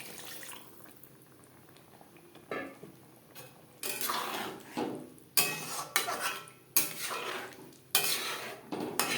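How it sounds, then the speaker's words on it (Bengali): Metal spoon scraping and clattering against a pot as chicken biryani masala is stirred over a high flame, with a string of loud scrapes that come more often after the first few seconds, and no one talking. "হাই ফ্লেমে 1-2 মিনিট নাড়াচাড়া করে নেব।"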